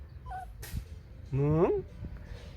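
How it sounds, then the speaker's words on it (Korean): A pet dog whimpers and whines in a short rising, wavering cry that stands out clearly, with soft background noise and a brief voice-like sound before it. "뭉치야 왜 낑낑거려"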